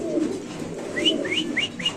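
Pigeons, male birds among them, coo in soft low warbles, close by, while several brief rising chirps overlap in the second half; no one speaks.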